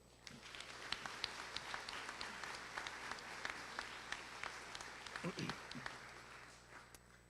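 A school auditorium crowd claps steadily through an eighth grade middle school graduation ceremony, a dense sustained applause with a few louder sharp claps and faint cheers near the end.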